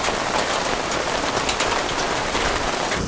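Heavy rain pours down in Sri Lanka, a dense, steady hiss of drops drumming on nearby surfaces. It is loud and close throughout, with no voices.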